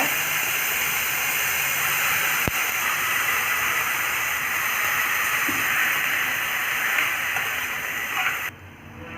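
Chopped banana stem and onions sauté in a hot pan, a loud, steady, close hiss that runs unbroken before dropping away abruptly near the end.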